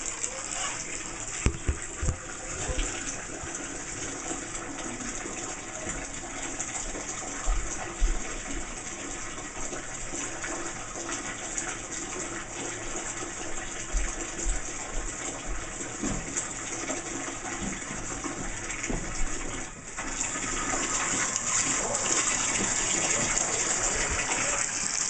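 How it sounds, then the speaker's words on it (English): Water runs from a tap into a cup while a pet cat's bath is prepared, the cup bubbling as it fills; a steady, continuous gush lasts throughout, with a few soft knocks early on and a slightly louder stretch near the end. "Still waiting for this cup to fill up here. And as you can see, it's bubbling up."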